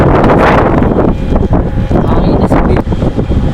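Strong wind buffets the microphone in loud, gusting roars, rising and dipping without pause.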